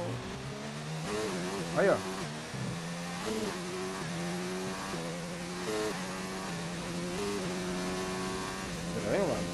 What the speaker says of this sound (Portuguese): Meu carro tá fazendo um barulho estranho, vocês ouviram?